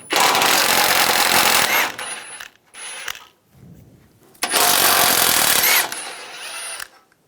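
A 15mm socket on a ratchet wrench loosens front bumper nuts on a 1999-2006 Chevrolet Silverado 1500: two long, loud bursts of rapid clicking close by, separated by quieter pauses with brief clinks.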